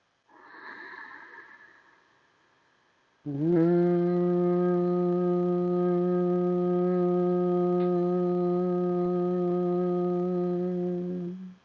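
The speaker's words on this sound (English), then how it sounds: "inhaling through your nose and then exhaling, making a little humming sound." A brief breathy inhale through the nose, then a long steady humming bee-breath exhale held evenly for several seconds, close and alone.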